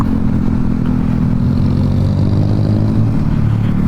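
Honda Vario 125 scooter riding along a road, its engine droning steadily up close with a constant low hum and wind rush, no voices.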